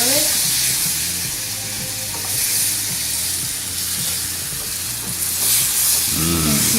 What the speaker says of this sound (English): Now we're going to put in the sauce and we're going to stir it, let it cook, let it caramelize.